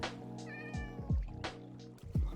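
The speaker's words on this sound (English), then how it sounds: "Still don't know what to do with the cats." Cats in the video game Minecraft meowing repeatedly, several clear, close mews in quick succession over a low background, with no talking.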